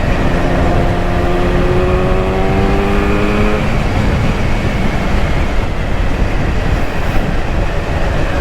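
A Yamaha RD400 two-stroke motorcycle engine revs up, its rising pitch climbing over a few seconds, then settles into a loud, raspy, buzzing roar that holds steady and close.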